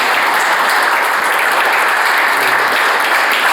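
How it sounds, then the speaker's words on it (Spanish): Audience at a ceremony honouring a lieutenant of Peru's Republican Guard breaks into loud, even applause, a dense wash of many hands clapping without pause and without voices. "quiero pedir también un aplauso muy fuerte"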